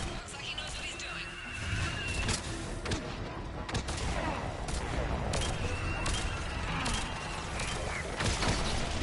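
Missiles are launched in Mass Effect 3 amid a dense combat din of rumbling blasts and sharp reports that build and persist, with voices talking over the battle.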